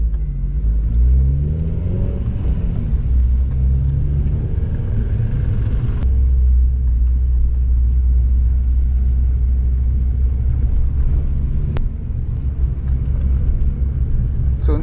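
A Honda Civic Type R with adjustable coilovers driving on a highway, a steady low engine and road rumble from inside the cabin, climbing in pitch early on, with talk layered over it.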